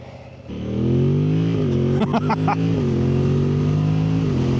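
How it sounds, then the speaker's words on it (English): A 2025 Yamaha MT-07 Y-AMT motorcycle starts, its engine catching within a second and settling into a steady, close idle with a brief blip of revs midway. "you can start it in gear if you hold the brake"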